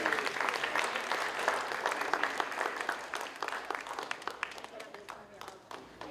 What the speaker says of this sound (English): And a big round of applause for the bride and groom, Mr. and Mrs. John Foley.